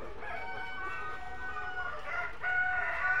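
Many layer hens in a poultry shed on a farm keep up a steady dense clucking and cackling, with drawn-out calls rising above the flock and growing a bit louder near the end.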